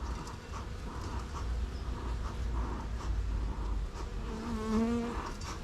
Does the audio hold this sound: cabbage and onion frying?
no